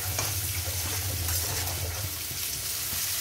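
Garlic, onion and fish roe fry in a pan, giving a close, even sizzle with faint stirring and a low steady hum beneath, no talking.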